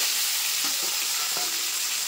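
Magur fish pieces frying in hot mustard oil give a steady, close sizzle throughout, with a few soft bumps as the pieces settle in the pan.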